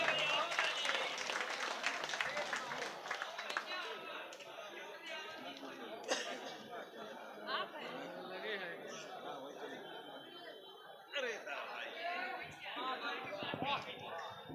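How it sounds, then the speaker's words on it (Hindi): An audience at an All India Mushaira in Katra Mubarakpur, Azamgarh, applauds to welcome the poet Sajid Parwana. Dense, steady clapping carries on for about fifteen seconds, mixed with crowd chatter and murmuring. "एक ज़ोरदार तालियों से मेहमान का इस्तकबाल"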